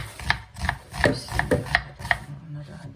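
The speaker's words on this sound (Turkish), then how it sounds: "Şimdi önce soğanlarımı doğruyorum." A knife chops onions steadily on a board, about six crisp, evenly spaced strikes close by, with a soft rubbing sound between them.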